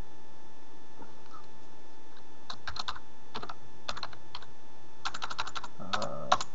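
Keys clatter on a computer keyboard in quick irregular bursts, close and fairly crisp, against a faint steady electronic hum with no speech.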